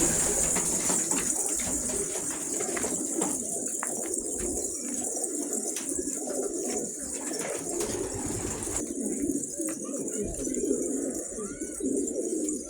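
Pigeons from a Turkish keeper's flock coo steadily throughout, a dense continuous murmur of several birds close by, with faint chirps and light rustling in the background and no talk.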